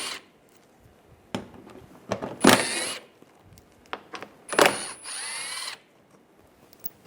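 Power drill driving an 8mm socket to remove underbody shield bolts on a 2006-2009 Mercedes-Benz E350, heard as several short whirring bursts, two longer ones near the end, close by with quiet gaps between.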